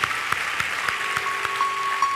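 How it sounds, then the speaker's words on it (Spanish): Church congregation applauding in a steady broadband patter at moderate volume, with a few sharper claps standing out and a faint sustained tone running underneath. "Dele un aplauso a Dios"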